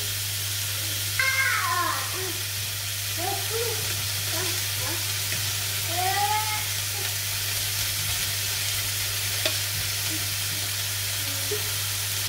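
Burger steaks fry in a pan with a steady, close sizzle that runs the whole time, broken by a few high, wavering cries that sound like a cat meowing nearby.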